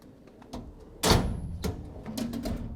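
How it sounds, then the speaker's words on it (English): A drawer on a JCB roll cab tool chest slides and shuts with a loud clunk, followed by lighter rattles and a second sliding movement, close by. "Let's check the drawer still works."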